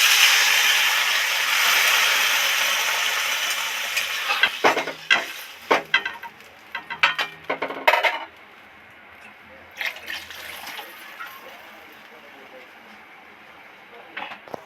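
Water is poured into spiced vegetables frying in a pan for a Bengali hilsa fish curry. A steady hiss and pour come first, then fade into scattered stirring clatters and a softer sizzle.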